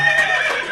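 A horse-neigh sound effect plays on a live comedy show, a single loud, shrill whinny lasting well under a second, with nothing else over it.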